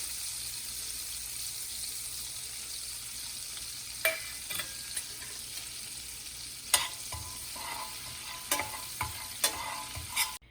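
Melted butter sizzles steadily in a pan with chili powder and salt while making chicken wings, a constant frying hiss with a few sharp clinks and stirring knocks scattered through it, no voices.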